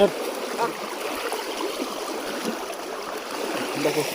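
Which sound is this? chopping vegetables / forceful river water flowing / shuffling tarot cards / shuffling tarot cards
forceful river water flowing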